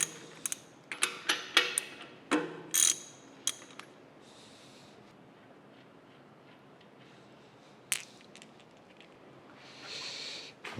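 A ratchet removes bolts from the main bearing of a steam stoker engine, with quick bursts of close metallic clicking, a pause, then a few more clicks and a clunk.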